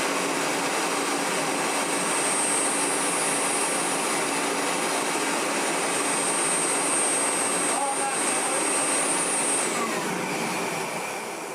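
A 1985 Hotpoint Super 3650 upright vacuum cleaner runs steadily with a loud, continuous whine and high-pitched motor hum, holding for several seconds before easing slightly at the end.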